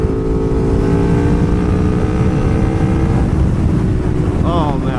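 A V4 sportbike engine howls at high RPM while riding, loud and sustained with a rising pitch, heavy wind buffeting over the top and a voice chiming in.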